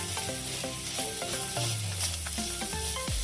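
Chopped mushroom stalks with turmeric, chili powder and black pepper powder sizzle in a hot pan, a steady close frying hiss broken by scraping stirs, with a faint tonal background underneath.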